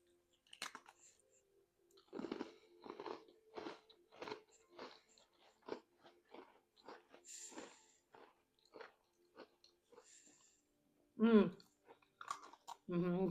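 Crunchy nut butter snack with peanut or cashew being chewed close up, a run of irregular crisp crunches and bites, with a brief spoken interruption near the end.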